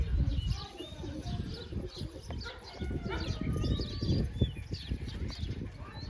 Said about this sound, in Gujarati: કબૂતર આપણા એરિયા મસ્ત મજાના દાણા ખાઈ છે